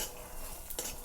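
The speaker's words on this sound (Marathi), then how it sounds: "कढईमध्ये आपल्याला अगोदर तुरीच्या शेंगाचं ही जी बी आपण काढून घेतलेलं आहे तर हे छान असं भाजून घ्यायचं आहे" Pigeon pea seeds dry-roast in a kadai without oil, a faint scraping stir and soft rattle of seeds against the pan over a light background hiss, with one brief sharper scrape.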